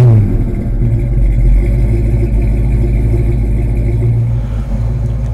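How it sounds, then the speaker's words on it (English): A 1970 Ford Mustang Mach 1 with a Cleveland V8 engine and a big cooling fan, running steadily: a loud, close, continuous low rumble with small fluctuations and no talking. "As you can see, it fires up nice."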